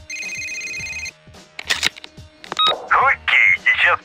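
A phone rings in the prototype build of the video game Need for Speed Most Wanted 2, with a steady electronic ring tone for about a second, followed by beeps and voices talking.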